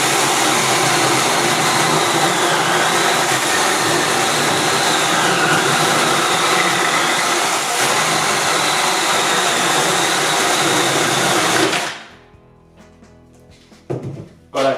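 A Parkside PKSA 20-Li A1 battery chainsaw cuts through dry pine, its steady high electric whine droning loudly and close for about twelve seconds before cutting off abruptly, followed by brief clatter.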